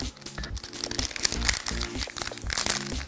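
Crafting sticker sheets crinkle and rustle as they are handled up close, a steady papery crackle with small crunchy bursts running throughout.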